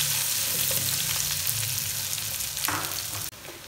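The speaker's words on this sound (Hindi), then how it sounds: "प्याज फ्राई हो रहा है" A large chopped onion fries in foaming oil left over from frying koftas for pulao, giving a loud, continuous sizzle with faint stirring that cuts off abruptly near the end.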